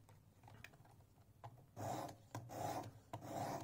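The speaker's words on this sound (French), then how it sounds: "on nettoie la lame, on vérifie que le fil est bien formé, et on tourne pour passer à l'autre côté" Knife blade drawn repeatedly across the abrasive of a Work Sharp Precision Adjust sharpener, giving soft rasping strokes that grow into several longer, louder scraping passes with short gaps, close up and with no talking.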